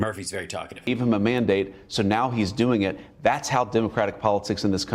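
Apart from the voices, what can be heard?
No distinct noise like a dog, phone or traffic.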